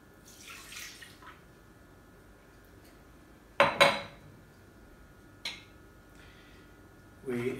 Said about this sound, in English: 125 grams of water.